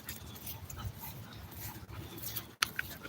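A small dog out on a leashed walk gives faint whimpers and soft high yips amid outdoor ambience, with a sharp short sound near the end; no talking.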